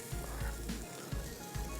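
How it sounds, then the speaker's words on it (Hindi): Green chillies hit hot oil in a pan of beef boti masala, giving a bright, steady sizzle with a few soft stirring scrapes, close and alone. "अब इसमें डाल देंगे हरी मिर्चें,"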